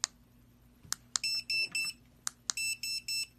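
A dog training collar gives a series of electronic beeps: sharp short clicks followed by sustained bright tonal beeps in two quick groups, clear and close with no talk.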